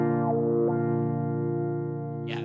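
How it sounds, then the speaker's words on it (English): A distorted electric guitar note sustains through a Zoom wah effects pedal, its tone swept a couple of times before fading slightly. A short bright noise closes it, and no one speaks. "Yeah, that's a guitar effects pedal."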